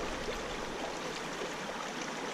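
River water rushes and burbles steadily while a gold pan is washed down at the riverside, a continuous close splashing flow with no voices.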